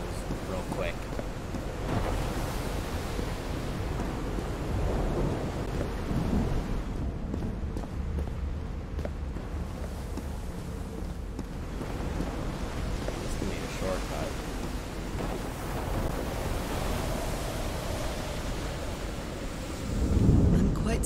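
A thunderstorm rages in the game Call of the Sea, a steady roar of wind, rain and rolling rumble that stays dense throughout and brings a heavier low boom near the end.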